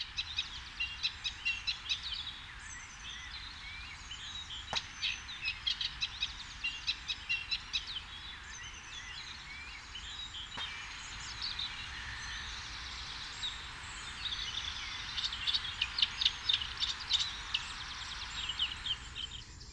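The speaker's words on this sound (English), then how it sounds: "I was really pleased to see this reed warbler dashing in and out of the reeds." A reed warbler sings from a reed bed in spring at a chalk-stream nature reserve, giving a steady run of chattering, scratchy phrases in repeated bursts, fairly close and clear above a soft outdoor background.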